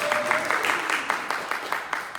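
An audience at a school parents' meeting claps steadily, a dense patter of hand claps with a loose rhythm, close and fairly loud throughout.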